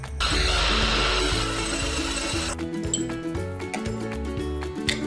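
Small electric chopper finely chopping ginger, garlic, beans and vegetables for a baby's soup, a loud close whirring motor drone for about two and a half seconds, then a quieter rattling hum.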